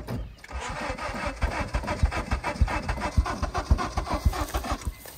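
A 2009 Honda Civic engine running right after a jump start, a steady mid-pitched idle with regular pulsing beats that rise slightly as it revs, close and fairly loud with no talking.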